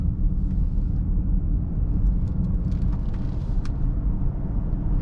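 A Mercedes GLE 350de climbs a steep hill on electric drive, a steady low cabin rumble of tyres and road noise with faint clicks, no engine note.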